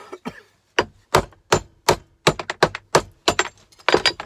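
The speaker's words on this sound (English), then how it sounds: "let's hammer some copper out of it" Copper being hammered out of scrap: a series of about fifteen sharp, close metallic strikes in an uneven rhythm, coming faster toward the end, with no talking.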